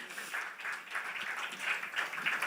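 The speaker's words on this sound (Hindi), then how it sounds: "तो जोरदार तालियां हो जाए इनके" Moderate, fairly distant applause from an audience at a TV serial launch event, a steady patter of many hands clapping for a couple of seconds with no talk.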